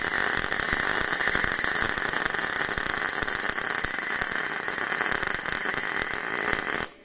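An SSimder SD 4050 Pro welder runs a steady MIG bead on thin 0.9 mm stainless steel using a synergic CO2 setting at 90 amps, giving a continuous close crackling hiss that stops abruptly at the end.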